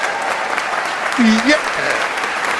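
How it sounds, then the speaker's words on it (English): Applause rises over a continuous background, with a voice briefly saying a word and a short vocal swoop in the middle of the sound. "Let me give you the applause."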